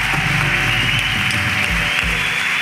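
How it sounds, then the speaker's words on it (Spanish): Studio audience applause for guests on a live talk show, a dense, steady wash of clapping holding evenly throughout at close, loud level with a low rumble underneath. "Pido un fuerte aplauso a The Mills que nos acompañó hoy."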